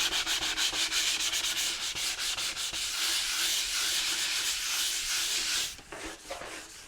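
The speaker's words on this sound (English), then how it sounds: "take some sandpaper, no lower than 320 grit sandpaper" Venetian plaster sanded by hand with 320 grit sandpaper in quick, close, rhythmic back-and-forth strokes that blend into a steady scratchy rasp, then break off into a few lighter rubs.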